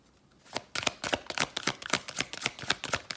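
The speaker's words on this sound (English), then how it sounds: "it's reducing some of the noise from me shuffling" A deck of oracle cards is riffled and shuffled close by, giving a rapid run of crisp papery flicks and snaps in an uneven rhythm, alone without talk.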